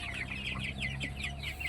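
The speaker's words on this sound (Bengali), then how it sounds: "তো হাইব্রিড টাইগার মুরগি" Hybrid tiger chickens on a small farm give a quick run of repeated clucks, fairly faint and steady over a low background hum.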